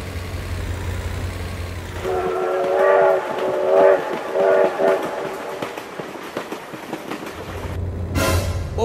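A train sounds its horn in a series of loud tonal blasts while rumbling past, with heavy low engine noise at the start and end framing the horn calls.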